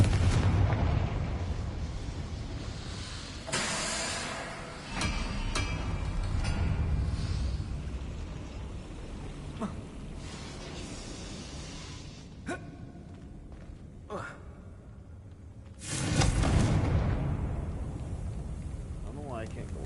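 Confringo fire spell explosions in the Hogwarts Legacy video game: several loud, booming blasts with sharp attacks and decaying rumbles, separated by quieter stretches of game ambience.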